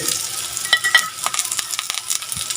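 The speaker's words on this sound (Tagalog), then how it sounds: "Ini piniprito pero sa sabawan yan." Fish frying in a pan with vegetables added, a close, bright sizzle with crackling pops and occasional stirring clicks, and no talking.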